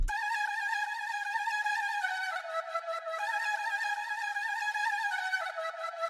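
A sampled flute, pitched up in FL Studio, plays a sustained bright melodic phrase with stacked harmonics, steady and fairly loud throughout with small shifts between notes, no voices.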